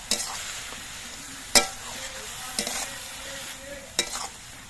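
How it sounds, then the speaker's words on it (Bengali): Spinach greens stirred in a pan with salt and turmeric, a soft steady sizzle broken by a few sharp clatters of a spatula against the pan, with no talk. "নুন হলুদ দিয়ে শাকটা নেড়ে চেড়ে মিশিয়ে নিয়ে"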